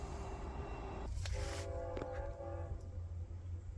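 A train passes nearby as a steady rumbling drone with a brief louder burst and a tonal horn-like ring, with no talking.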